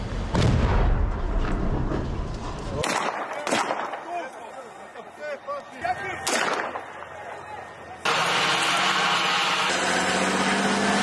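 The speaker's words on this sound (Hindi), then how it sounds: "हिजबुल्लाह के ठिकानों पर भारी फायरिंग।" Heavy gunfire and explosive booms at Hezbollah positions in South Lebanon, loud repeated blasts and cracks over a dense noisy background, with a sustained roar late on and a voice speaking early.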